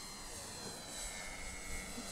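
A 1/7-scale Sopwith Camel RC model biplane's engine drones steadily in flight, faint and distant, with a slight swell toward the end.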